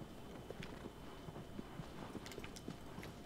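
Horse hooves clip-clopping at a steady walking pace in Shadow of the Colossus, soft and fairly distant over a constant windy background hiss, with no talking.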